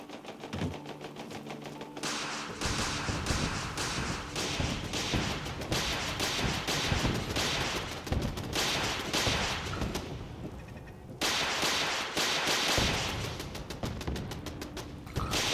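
Sustained heavy gunfire during an alien attack in the video game Commonwealth of Decay, rapid loud bursts packed tightly together with a brief lull near the middle, and no voices.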